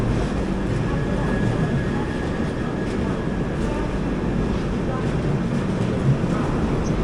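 The Prasanthi Express pulls out of Dharmavaram Junction with a steady, loud, broad rumble of rolling rail cars that holds evenly throughout.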